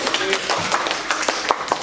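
Brief, scattered hand clapping from a small audience at a workshop or class session, irregular claps close by with voices mixed in.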